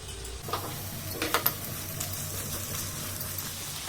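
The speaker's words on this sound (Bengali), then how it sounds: "এবার ডিম আর সবজিগুলোকে একসাথে একটু ভালো করে আমি ভেজে নেব" Egg and vegetables frying together in a pan give a steady, close sizzle, with a few brief clicks of a utensil near the start.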